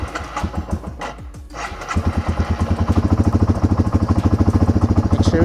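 A Yamaha TW200 dual-sport motorcycle engine is running on a carburetor that is being drained of fuel. After some uneven sputtering it settles into a steady, close, loud thumping idle with no voices.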